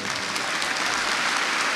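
Live show audience clapping for a man singled out in the crowd, a dense, steady burst of applause filling the hall without pause.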